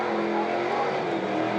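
A burnout car at the Red CentreNATS in Alice Springs revs hard, producing a loud, continuous, close engine roar with a gritty, raspy edge.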